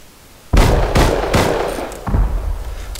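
Gunfire in a video game shooter rings out as several sharp, loud shots in quick succession, with a further cluster after a brief pause, each trailing into a short echoing decay.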